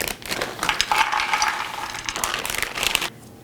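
Crushed pecans hit a hot skillet with a bright, steady sizzle and light rattling of nut pieces, close and continuous for about three seconds before cutting off abruptly.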